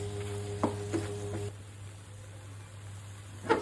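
Dried shutki fish sizzles faintly in a pan while being turned, with a few soft scraping knocks of a utensil against the pan over a low steady hum.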